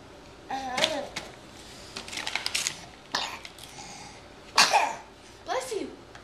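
A sneeze at a family Christmas gathering, heard amid bursts of coughing-like noises, rustling paper and scattered children's and adults' voices, with one sharp explosive burst standing out in the middle.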